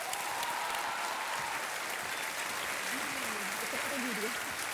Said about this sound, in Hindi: तालियां बजते रहे देवियों और सज्जनों।